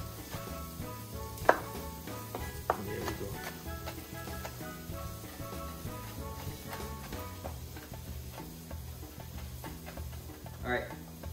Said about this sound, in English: So I'm cutting up some of that habanero peppers, so the beef patties could be a little spicy.